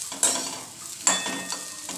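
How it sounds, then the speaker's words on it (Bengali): Bitter gourd and potato pieces sizzle in a pan with a few stirring scrapes that bring brief louder surges of frying hiss, close and without talk. "এবার আমি উচ্ছে আলু ভাজাটাও বসিয়ে দিয়েছি"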